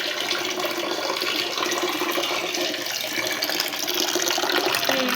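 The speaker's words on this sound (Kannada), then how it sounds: "ನೀರು ಬಿಟ್ಬಿಡು. ನೀರು ಬಿಡು." Water poured steadily from a tap into masala for fish curry, a continuous splashing rush lasting several seconds with no talk.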